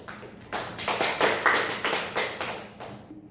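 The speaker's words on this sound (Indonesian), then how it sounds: "Kita beri tepuk tangan dulu" Students in a classroom clap their hands for a classmate, a short burst of roughly ten distinct, evenly spaced claps, close and moderately loud, with no talking over them.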